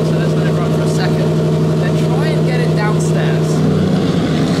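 A car engine idles just after starting, a steady low drone with a strong constant hum and a brief rise in pitch near the end, loud and close, with someone talking over it.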